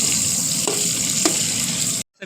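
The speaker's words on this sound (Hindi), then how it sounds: "प्याज को सुनहरा होने तक भून लेंगे।" Onion frying in hot oil in a kadai gives a steady, close sizzle with a couple of brief stirring knocks, cutting off abruptly near the end.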